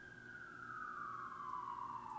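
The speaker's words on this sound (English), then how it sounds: "I'd like to apologize for the sirens." An emergency vehicle siren wailing in downtown Toronto, a single long tone slowly falling in pitch, steady and somewhat distant, heard alone without talk.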